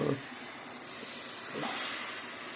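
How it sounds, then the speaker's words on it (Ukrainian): A Xiaomi standing garment steamer releases a steady, moderately quiet hiss of steam that swells a little louder partway through, with no talking. "Пара густа, пара пара потужна, от, пара рівномірна."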